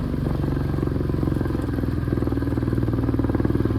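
A motorcycle on a weekend ride rumbles along with a steady, throbbing engine note close by, the pulsing drone holding constant throughout with a faint rattle.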